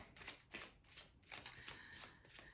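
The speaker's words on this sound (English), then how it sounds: "Let's clear up some more cards." A deck of tarot cards being gathered up and shuffled, heard as a quick run of soft, rhythmic riffling flutters, close but quiet, with no talking.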